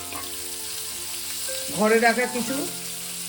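Chopped onions and slit green chillies sizzle steadily in hot oil, close up, while someone speaks briefly over the frying.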